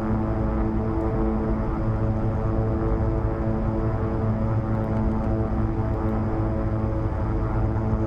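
Beechcraft King Air 350 turboprop taxiing in X-Plane 11 at Atlanta, a steady, loud engine drone with a layered harmonic hum running unbroken and alone throughout.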